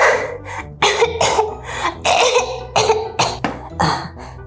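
Repeated harsh coughs from a child, close up, coming in a quick uneven series of short bursts.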